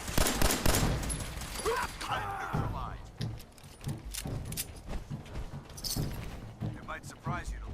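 Gunfire crackles in a Fallout 4 shootout with raiders: several sharp shots and rapid bursts, close and fairly loud, mixed in with a person speaking.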